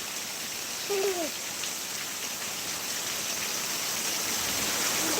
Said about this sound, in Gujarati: જબરજસ્ત વરસાદ ચાલુ છે